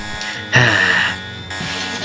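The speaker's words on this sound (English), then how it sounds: "They just don't care that there's alarms going off now." An electronic alarm goes off in the video game Deus Ex (GOTY Edition) at UNATCO headquarters, a harsh buzzing tone that blares loudly for about a second, then drops back to a fainter hum.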